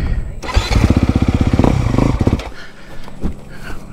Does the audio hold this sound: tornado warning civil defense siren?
no